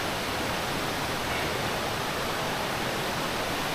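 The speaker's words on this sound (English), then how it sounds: "near the waterfall." Steady, loud rush of a waterfall pouring near a river in Cockscomb Basin Wildlife Sanctuary, a broad continuous roar with no breaks and no voices.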